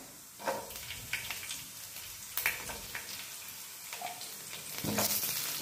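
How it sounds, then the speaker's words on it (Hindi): Garlic cloves and onion frying in a pan, an ongoing quiet sizzle with bursts of louder crackle and scraping stirs at intervals, close by and fairly faint, with no talking. "अब इसमें डालें लहसुन की कलियां और प्याज"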